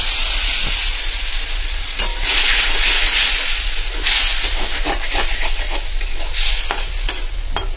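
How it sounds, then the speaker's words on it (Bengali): A curry base of salt, turmeric, cumin and coriander with water heats in a pan before fried fish is added. A loud, steady hiss and sizzle runs throughout, broken by occasional stirring scrapes and no speech. "এখানে দেখো অর্কর ঝোলটা চাপিয়েছি, এতে হালকা হালকা সেদ্ধ করে ভেজেছি, এর মধ্যে নুন, হলুদ, একটু জিরে আর ধনে আছে"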